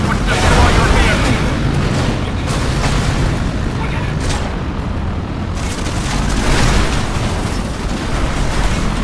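A vehicle blowing up in the Red Faction Guerrilla video game, a loud, sustained roaring blast with rumbling debris that fills the whole stretch without letup.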